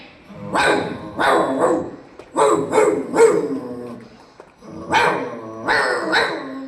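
A voice imitates a big dog with deep, gruff barks, delivered in two clusters of loud woofs with a short gap between.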